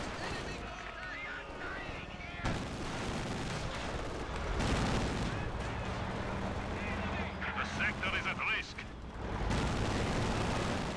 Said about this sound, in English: Infantry just charging forward right through the Katusha barrage